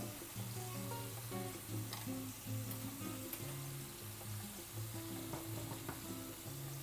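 Pişi dough made with milk and no yeast fries in a small amount of oil in a pan, giving a steady, gentle sizzle with faint bubbling, close and quiet throughout.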